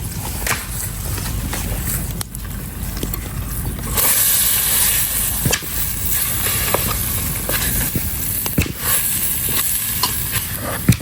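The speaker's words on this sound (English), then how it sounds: "we'll put the minced lamb into the pot. We'll cook this and keep stirring it." Minced lamb frying in a pot over a campfire gives a steady sizzling hiss that grows louder partway through, with scattered clicks and scraping taps from stirring, heard close with no talking.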